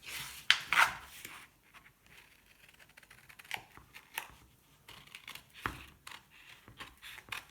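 Quiet, irregular snips and crisp rustles of paper being cut with scissors, close by, with a few louder crackles of handling.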